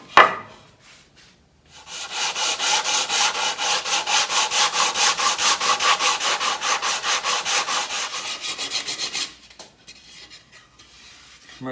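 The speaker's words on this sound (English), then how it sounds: "give that a light sand and take off the sharp edge" Light hand sanding along the edge of a wooden part for a demilune table, a steady rhythmic back-and-forth rasp of close, even strokes running for several seconds before stopping, with no talk.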